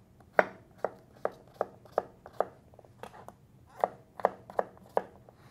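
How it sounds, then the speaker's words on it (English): A knife chops squash and other vegetables on a board, about a dozen sharp, close, distinct cuts in a loose, uneven rhythm, alone with no voices. "Always watch yourself when you're cutting these vegetables."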